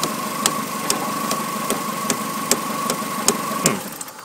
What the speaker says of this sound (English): And I tap this and it kills the engine.